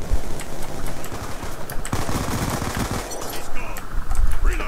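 An LMG machine gun in the video game Call of Duty: Black Ops 2 firing in rapid sustained bursts, dense crackling gunfire with a voice talking over it.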